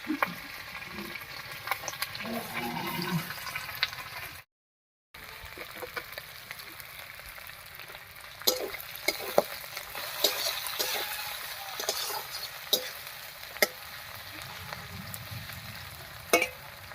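Green chillies and chopped onion fry in fish oil in a pan while a katla fish curry is being made, giving a faint, steady sizzle with scattered sharp crackles and pops and soft stirring sounds, broken by a short silent gap.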